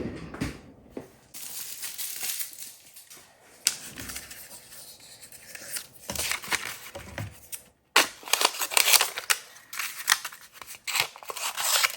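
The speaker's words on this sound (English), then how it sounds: "I'm going to run it through the Xyron, making it a sticker also." Paper fed through a Xyron sticker maker while crafting a Halloween card, giving a crisp crinkling and crunching rustle with uneven scraping bursts and a sharp tearing section near the end, close up and without speech.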